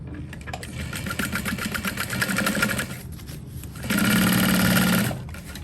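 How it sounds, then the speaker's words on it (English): A sewing machine runs in two close bursts while stitching a backpack piece shut, a busy whirring hum with a short pause between runs and the second run louder and steadier. "And sew it shut."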